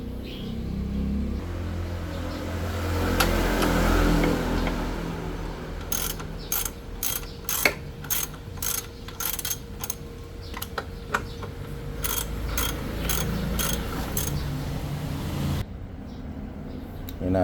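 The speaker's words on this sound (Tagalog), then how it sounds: "So ako wrench ang gamit ko talaga" A ratchet wrench loosens a 10mm screw on the seat of a Bristol Venturi 500 motorcycle, giving bursts of rapid, crisp clicking strokes over a low background hum.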